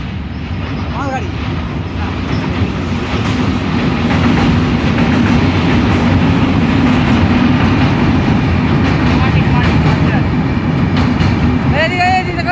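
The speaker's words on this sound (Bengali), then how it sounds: "মালগাড়ি।" A goods train rolls past close by with a loud, continuous rumble and rattling wagons. The clatter stays steady throughout, with faint voices at moments.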